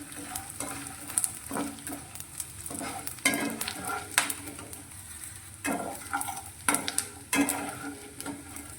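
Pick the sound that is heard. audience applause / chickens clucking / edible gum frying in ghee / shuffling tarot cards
edible gum frying in ghee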